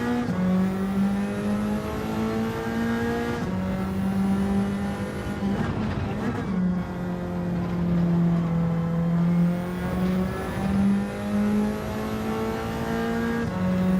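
A Porsche race car engine in Gran Turismo 7 drones steadily and loudly throughout, its pitch rising and falling with shifts and throttle changes, with a brief rougher burst midway.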